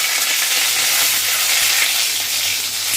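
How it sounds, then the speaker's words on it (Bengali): Bay leaves frying in hot oil for a hilsa fish head dish, a loud, close, continuous hissing sizzle throughout. "তেজপাতা ফোড়ন দিলাম"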